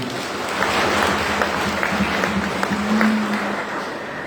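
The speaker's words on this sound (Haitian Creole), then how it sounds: "On nous bat un gros bravo pour eux" A crowd at an evening church choral gathering claps steadily in a sustained, fairly loud round of applause, dense and continuous throughout with a few brief voices mixed in.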